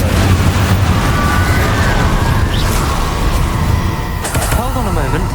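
Spell combat in Hogwarts Legacy, with loud continuous crackling blasts and booming bursts layered over each other, a whooshing warble near the end, and heavy rumbling throughout.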